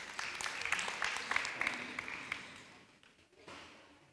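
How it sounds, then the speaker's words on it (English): Audience at a primary school renaming ceremony in Tamavua, Suva, applauding children after their performance; moderate clapping for a few seconds that thins and fades toward the end, with brief voices mixed in. "Another big round of applause to them, please."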